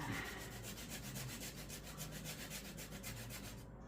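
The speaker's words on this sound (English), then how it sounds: "I think this is called a planer." Microplane grater zesting a lime, a faint continuous scratchy rasping with a quick regular rhythm of strokes, close and alone for a few seconds.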